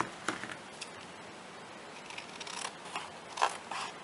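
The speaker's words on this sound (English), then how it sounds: "I think there's a little piece there that I need to trim." Scissors snip a piece of recycled cardboard box: a handful of soft, close, irregular cuts and crunches over quiet background.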